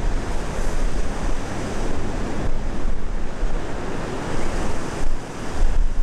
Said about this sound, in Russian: Это пирс. Пляж отеля.